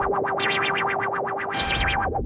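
Synthesizer noise from an Ableton SH-101 rack, a rhythmic distorted sweeping pulse repeating quickly, with a hissy noise burst joining partway through, loud and alone.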